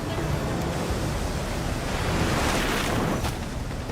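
River rapids rush loudly and steadily around a drifting boat in the Velebit mountains, a dense broadband roar of churning water up close with wind buffeting the microphone.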